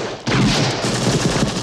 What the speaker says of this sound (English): The actual Indiana Jones gunshot was a .30-30 Winchester rifle that was recorded.